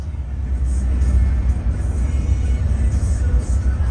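A bus on an early Hino RM chassis corners at high speed, heard from inside as a steady, loud low engine and road rumble with a faint whine on top.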